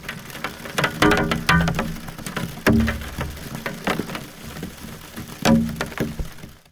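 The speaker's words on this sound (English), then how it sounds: "and snow falling on glass" Snow falling on glass, captured through a high-gain contact mic, gives scattered soft ticks and patters with a few sharper taps, close and intimate, with no one speaking.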